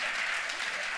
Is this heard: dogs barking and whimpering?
no